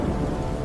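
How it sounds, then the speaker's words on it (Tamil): Heavy rain pours down in a steady roar with a low rumble of thunder, loud and close, a brief burst of storm with no voices. "ஒரு நாள் காட்டில் பெரிய மழை"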